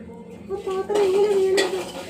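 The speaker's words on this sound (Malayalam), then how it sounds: "പാത്രം വീണു." A metal kitchen vessel falls and rattles close by, producing a clattering strike followed by a sustained metallic ring that wobbles and fades, then a second brief clang near the end.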